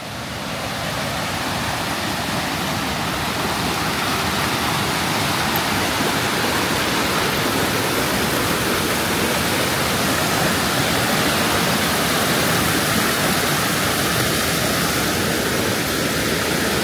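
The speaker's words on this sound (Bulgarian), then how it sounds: "сега продължаваме напред към водопадите" Waterfalls at Plitvice Lakes in Croatia, a steady dense roar of falling water heard from close range, unbroken and fairly loud throughout.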